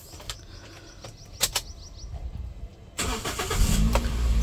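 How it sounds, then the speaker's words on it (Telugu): A 2011 Toyota Etios VX petrol car engine cranks and fires on the first try about midway through, then settles into a steady idle, heard close up after some light clicks and handling noises. "సింగిల్ సెల్ఫ్కి ఇంజన్ స్టార్ట్ అయిపోయిందండి."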